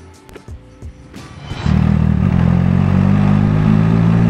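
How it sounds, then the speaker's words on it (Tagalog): An MV Agusta Turismo Veloce 800 motorcycle on a test ride gives a few sharp exhaust pops and crackles before surging into a loud, sustained engine roar close by. "tapos pumuputok yung pipe natin. Ang ganda ng tunog nito, grabe guys."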